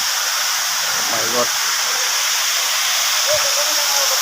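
Steady broadband rush of Sirki waterfall in the hills near Pasighat, a loud continuous roar of falling water filling the whole scene, with brief faint voices and a short tonal sound passing underneath.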